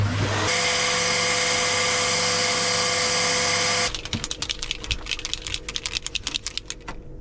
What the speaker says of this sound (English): Back to sanding.